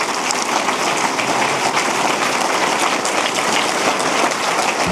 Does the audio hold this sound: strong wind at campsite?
no